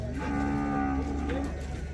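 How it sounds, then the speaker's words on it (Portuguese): Cattle low at a goat and livestock fair in Cumaru, Pernambuco, Brazil: one loud, drawn-out moo that holds steady for about a second and a half over crowd and fair background noise. "Desses dois boi graúdos."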